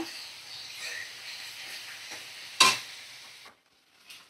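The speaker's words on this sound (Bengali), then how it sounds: "দেখো ভালো করে ভাজা করে নেব পেঁয়াজটা" Sliced onions fry in a pan seasoned with salt and Kashmiri red chilli powder, giving a faint, steady sizzle with one sharp clatter partway through before the sound drops away.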